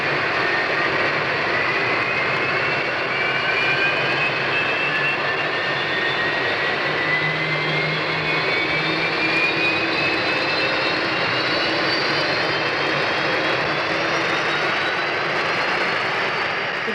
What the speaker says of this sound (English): welcome you on board this Trident aircraft